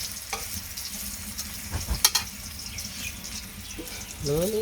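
Eggplant fries in a pan with a moderate sizzle, punctuated by scattered clinks and scrapes of utensils and a short run of running water near the end.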